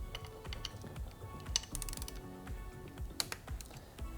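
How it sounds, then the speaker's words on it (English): Screws on 2015–2018 Yamaha R3 engine case savers are torqued with a hand tool, giving faint, quick clicking ticks in a quiet room with no talk. "these remaining screws need to be torqued as well"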